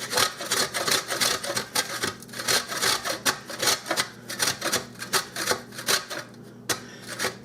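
A frozen lemon rubbed against a grater, close rhythmic rasping strokes repeating steadily, each stroke a short scratchy burst over faint background hum.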